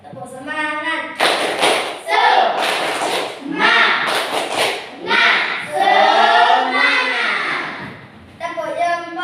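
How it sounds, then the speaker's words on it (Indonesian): Schoolchildren in an Islamic religious education class in Palembang perform a rhythmic clap routine, loud close bursts of patterned clapping and thumps alternating with children chanting together and an adult voice speaking. "Supaya tidak ngantuk, kita tepuk tangan dulu."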